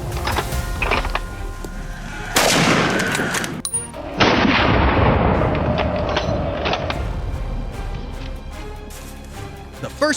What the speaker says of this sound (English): A bullet tore through the air, striking the beast dead on.